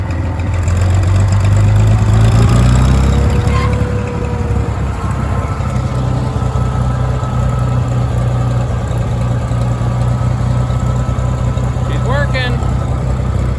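A 1962 Farmall 560 tractor engine running, a loud low rumble that rises briefly near the start, then holds a steady close drone with some gear and mechanical noises; someone talks over it.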